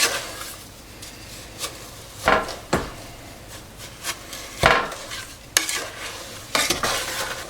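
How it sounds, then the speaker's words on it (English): A spoon stirs a melting sugar mixture in a pot for holiday candy, with scraping and clinking strokes at irregular intervals over a soft, steady sizzle, close and moderately loud, with no voices. "we are going to stir this until everything is melted"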